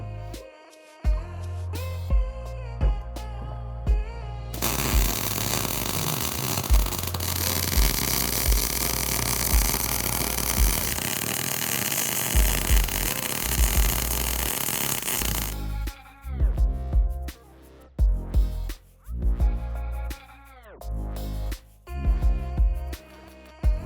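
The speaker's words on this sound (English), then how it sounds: "while I MIG weld the ends of the billet" A steady, harsh crackling hiss of MIG welding on the ends of a steel billet for Damascus runs for about ten seconds, with music playing before and after it.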